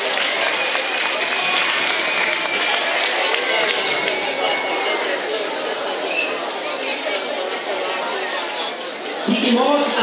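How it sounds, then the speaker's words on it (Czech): A crowd at a marathon event applauds the successful runners, steady clapping and chatter filling the space throughout while a voice talks over it. "Ještě jednou velký potlesk pro tyhle úspěšné maratonské běžce"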